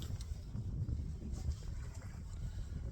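A steady east wind blows over a fishing boat on a lake, a continuous low rumbling buffet against the microphone with no voices.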